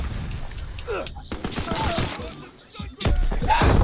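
Gunfire in Call of Duty WWII Team Deathmatch on the Aachen map, bursts of sharp shots and thuds in a busy game mix, loud and close, with a voice talking over it.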